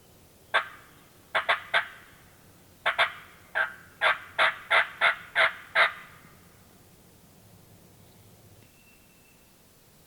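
A wild turkey gobbles on Virginia public land during spring hunting, a rapid run of about a dozen sharp rattling notes in two bursts, moderately distant in a quiet outdoor setting.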